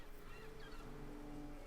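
Honking fowl-like bird calls in the game Broken Age, faint and distant, a short run of overlapping nasal honks over a low steady background with no talk.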